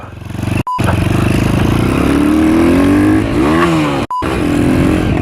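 A motorcycle on a rural track revs hard with a missed gear shift. The engine pitch climbs and wavers, breaks off abruptly twice, then surges again, loud and close.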